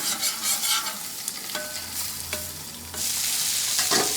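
Eggs frying under a dome on a flat-top griddle, a steady crackling sizzle with scraping spatula taps and a louder hiss swelling near the end, no voices.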